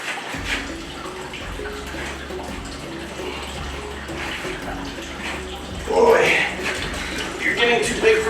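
Water runs into a bathtub for a massive king cobra's bath, a steady rushing stream that grows louder near the end, with someone talking over it now and then.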